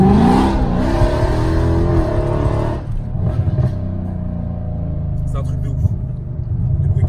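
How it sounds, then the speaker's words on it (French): A Mercedes engine rumbles and revs with a deep, throaty exhaust roar from underneath the car with the exhaust valves open, loud and close, while people talk over it. "Mais tu ouvres les valves et t'envoies, bah là tu auras un vrai bruit comme là maintenant"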